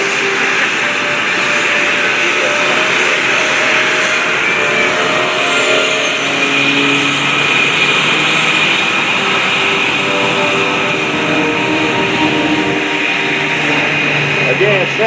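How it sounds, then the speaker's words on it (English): A Short Tucano turboprop performs snap rolls at the Dover AFB airshow, its steady engine whine droning loudly and continuously with a faint pitch shift, under a commentator's voice. "Again, snap rolls, something you don't see turbines and engine aircraft perform, and Lee Leet knocks it out in the short Tucano"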